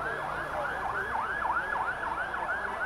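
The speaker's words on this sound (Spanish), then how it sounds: "Las ambulancias al parecer traían alguna emergencia." A rapid yelping ambulance siren cycles over and over at a street protest during a national strike, steady and fairly close for its whole length with no voices.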